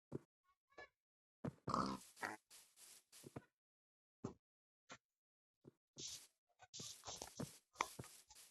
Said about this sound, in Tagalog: Uy, may baboy.